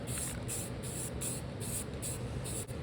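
Brake cleaner sprays from an aerosol can in short repeated hissing bursts, about seven even pulses close by, during an AMC Eagle headliner repair, with no talking.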